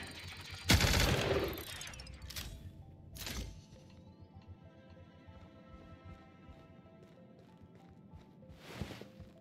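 Gatling gun fire in The Outer Worlds video game: a loud opening burst of rapid shots, a shorter burst a few seconds later and another near the end, with quieter game sounds and tones between them.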